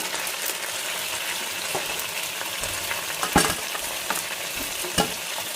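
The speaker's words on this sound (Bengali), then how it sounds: "দেখো কি সুন্দর গোল্ডেন ফ্রাই হয়ে গেছে" Chicken wings for a sweet garlic recipe fry in hot oil, a continuous close sizzle broken by occasional sharp clacks of a utensil stirring and turning them in the pan.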